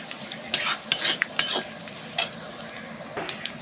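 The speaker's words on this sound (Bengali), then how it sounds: "পেঁয়াজটা একটু লাল লাল করে ভেজে নেবো।" Onions frying in a pan over a cooking fire at an outdoor picnic, a steady sizzle with repeated scraping stirs and light utensil clinks, close and alone.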